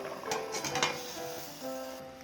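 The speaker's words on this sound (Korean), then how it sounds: "뚜껑 닫아서 졸이다가 한번 열어볼게" A lid lifts off a pot of braised butterfish simmering in a spicy chili sauce, with a brief metallic clatter over a steady bubbling, simmering hiss that carries on throughout.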